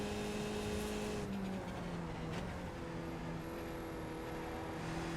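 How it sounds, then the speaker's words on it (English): Skip Barber race car engine held at full throttle in fourth gear on the Detroit Belle Isle circuit in a racing game, a steady droning engine note with a slight pitch shift midway. "Now we're up to 4th gear, and we're going to cross the line"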